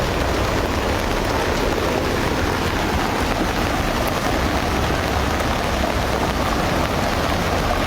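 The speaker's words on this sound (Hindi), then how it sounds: "जम्मू कश्मीर के सांबा जिले में भी भारी बारिश का कहर देखने को मिल रहा है।" Heavy rain pours down during flooding in Samba district, Jammu and Kashmir, a dense, unbroken roar of drops on surfaces that stays loud and even throughout.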